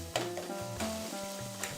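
Food sizzles quietly in a pan while being stirred and roasted, with a few scraping strokes of a spoon against the metal and a steady soft crackle underneath, close and alone.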